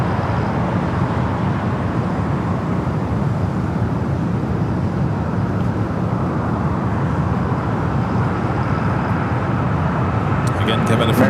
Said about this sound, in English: coming in from Provo, Utah, an Airbus A220-300